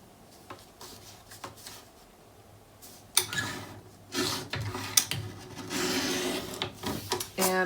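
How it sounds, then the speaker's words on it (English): A paper trimmer slices a thin strip off cardstock, giving a loud rasping, scraping cut after a quiet start, with a few sharp clicks and rustles as the blade travels and the sheet shifts. "I'm going to trim a little off just so there's a little better clearance"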